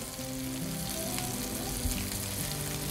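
Korean jeon pancakes frying in an oiled pan with a steady, close sizzle and crackle, faint background murmur and a light clink, no clear speech.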